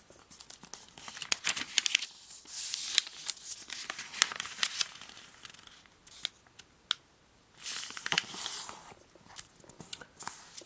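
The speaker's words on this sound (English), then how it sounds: "Then let's turn over, and we'll fold in half diagonally." Origami paper being turned over and folded in half diagonally, close crinkling and crisp rustling with short creasing sounds, fairly quiet and alone.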